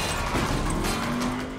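A car driving in the video game Saints Row, with a steady, loud engine drone and a brief tire squeal rising near the end of the short burst.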